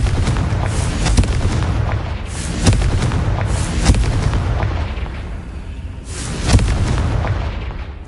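Blasts of the Confringo fire spell in Hogwarts Legacy: a run of heavy booming explosions several seconds long, each with a fiery crackling burst and a rumbling tail, loud and close over constant game noise, no one talking.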